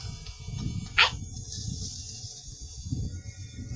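A single sharp dog bark sounds once in a video game, a short bright yelp standing out over low game rumble and ambient noise.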